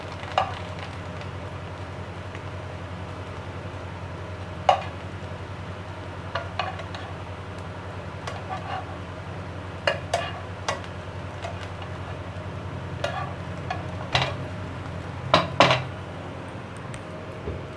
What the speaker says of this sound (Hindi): हमारे ब्रेड के स्लाइसेस दोनों साइडों से इक्वल जो है ना वो फ्राई हो चुके हैं।